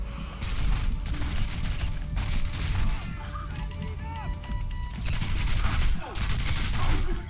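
Gunfire in Sniper Elite III during co-op play, a steady barrage of shots and impacts running throughout over busy game noise, loud and continuous with brief lulls.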